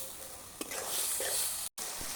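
Shrimp frying with spices in a pan for a curry with flat beans and potatoes makes a brief, soft hiss with a faint stir or two and one short break.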